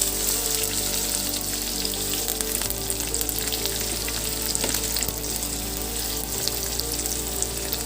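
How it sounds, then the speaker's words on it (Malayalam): Sliced onion, ginger, green chili and curry leaves roasting in a pan for a Kerala-style soybean curry, a loud, close, continuous crackling sizzle with a steady low hum beneath, no voices. "അരിഞ്ഞു വെച്ച സബോള, ഇഞ്ചി, പച്ചമുളക്, വേപ്പില നമുക്ക് ഈ ചട്ടിയിൽ ഇട്ടിട്ട് ഒന്ന് റോസ്റ്റ് ചെയ്യാം"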